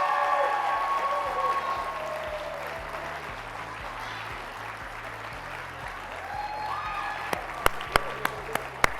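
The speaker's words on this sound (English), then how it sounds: "Give them a big round of applause." An audience applauds presenters at a business hall of fame awards event, dense steady clapping that slowly thins, then a few sharp, separate louder claps near the end.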